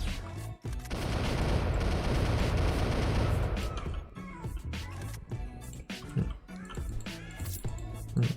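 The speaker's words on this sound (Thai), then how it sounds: "แล้วก็ยิงรัวๆกดค้างได้นะครับ" Rapid gunfire from the starter gun in the video game SCP: The Red Lake: a dense, loud burst of shots for about three seconds, then scattered single cracks and impacts, heard close.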